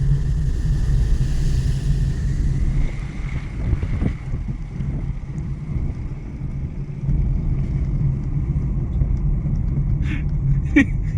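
A car engine runs steadily while driving, a constant low rumble with wind buffeting, and a faint clatter near the end.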